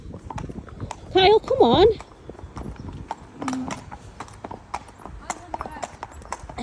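Horses being hacked out along a main road, hooves clip-clopping steadily beneath a rider's voice, with a brief neigh-like squeal early on.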